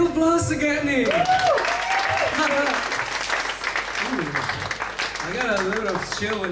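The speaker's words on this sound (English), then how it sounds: "Give applause again, Nick" An audience at a 2018 poetry slam bursts into sustained, loud applause that carries through the whole stretch, mixed with a voice talking and cheering over it.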